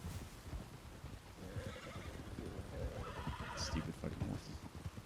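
Horses neigh and whinny in a Western setting tied to a sheriff's department, with several brief whinnies over clip-clopping hooves and background rustle, fairly close, under some low voices.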